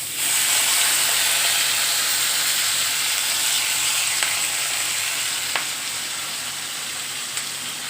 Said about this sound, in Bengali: রসুন পেঁয়াজ কাঁচা লঙ্কা টমেটো এগুলো তেলের মধ্যে ছেড়ে দিয়ে আগে ভালো করে ভেজে নেব